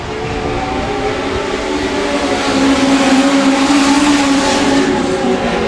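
Legend race cars circle a track during a heat, giving a loud, continuous engine drone that swells as the pack draws nearer, with overlapping motor tones blending together.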